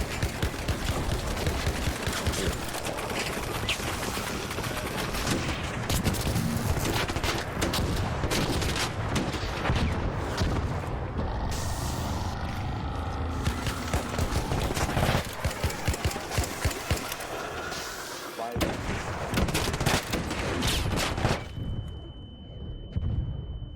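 Sustained bursts of gunfire and explosions in an ARC Raiders battle, loud and nearly constant, thinning briefly before dropping off at the end.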